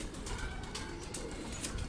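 A Kamagar pigeon from a champion bloodline coos inside a loft, a low rolling murmur heard close and continuous across a brief moment, with no talking.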